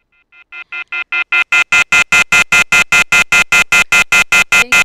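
On a live radio station's phone line, a rapid series of about twenty regular telephone tone pulses rises in loudness at first, then holds steady and fairly loud with no talk over it.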